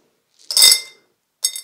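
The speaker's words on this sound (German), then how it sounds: "kommt das Kolomi hier in das Glas" Colomi clay substrate pebbles poured into a glass for orchid potting, a short bright rattling clatter followed by a second brief clinking burst, close and clear without talk.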